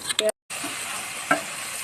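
Cumin, a bay leaf and a dried red chilli frying in oil before tomatoes go in for a prawn dish, making a close, steady hiss broken by a brief silent gap and a couple of light clinks.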